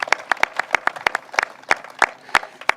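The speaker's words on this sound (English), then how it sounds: "So give him a round of applause." Scattered clapping from a small crowd at a government announcement event, with distinct individual claps in an uneven rhythm, moderately loud and close.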